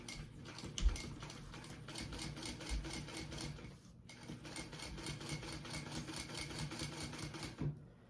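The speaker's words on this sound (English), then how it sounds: "We're gonna sew on that flap" Sewing machine stitching on a flap, a quiet, rapid mechanical ticking run that pauses briefly midway and then resumes before stopping.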